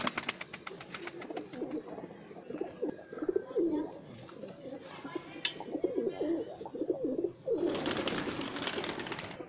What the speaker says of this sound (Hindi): बहुत प्यारा कबूतर है मेरा